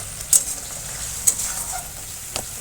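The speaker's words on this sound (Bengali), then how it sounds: "আর এদিকে আমি ডিম কষার জন্য মশলা কষাচ্ছি" Spice paste for an egg curry sizzles in a pan, a steady close frying hiss broken by three sharp scraping stirs.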